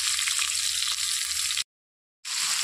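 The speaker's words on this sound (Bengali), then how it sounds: "তো মাছ ভাজা হয়ে গেছে," Fried fish sizzling in hot oil, a dense close crackle that stops abruptly for a moment of silence before resuming.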